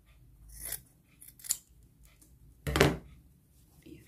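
Scissors cut through fabric scraps in a few close, crisp snips, with a stronger cutting burst near the end. No one speaks.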